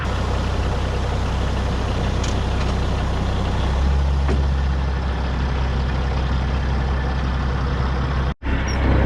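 A stretched Peterbilt semi truck idles with a loud, low rumbling engine while its trailer is unhooked, with a sharp brief hiss or clunk near the end.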